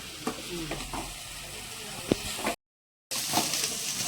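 Mutton masala fries in a pan with a steady sizzle and occasional stirring scrapes, continuous and close, with a brief gap of silence partway through.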